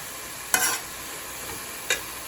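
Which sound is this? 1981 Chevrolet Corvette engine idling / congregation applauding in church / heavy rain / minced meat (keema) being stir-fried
minced meat (keema) being stir-fried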